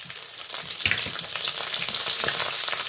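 Ginger and green chili hit hot oil over a dried-chili tempering for taro leaves, giving a loud, steady sizzling crackle with a sharper burst near the start. No talking.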